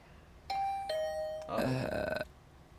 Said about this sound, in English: But then my doorbell started ringing.